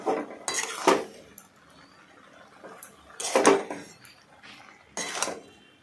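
A spoon scrapes and clatters in a pan as small mourala fish are tossed with turmeric, chili powder and coriander powder. Three distinct bursts of metallic stirring are separated by quieter gaps, close by and with no voices.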